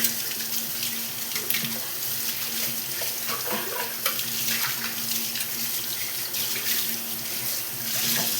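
Water running steadily from a kitchen tap while dishes are washed, a continuous splashing hiss with faint clinks of utensils throughout, fairly quiet and close, with no talking.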